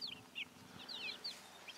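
A Silkie chicken clucks close by in a series of short, soft high chirping clucks in an irregular rhythm, quiet against faint background noise.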